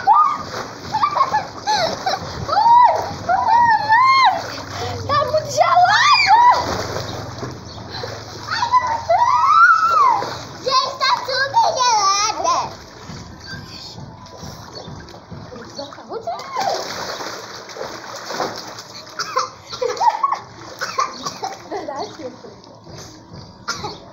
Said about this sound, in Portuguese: eu vou dar meu primeiro mergulho